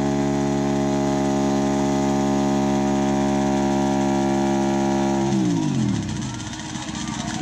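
A Spyder car engine holds a loud, steady high-revving drone during a burnout, then the pitch sweeps down sharply as the throttle is released and it settles into a rougher, quieter idle.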